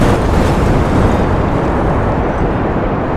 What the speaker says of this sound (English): apparently that caused a massive explosion.